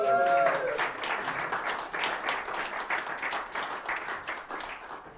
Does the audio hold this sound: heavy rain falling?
no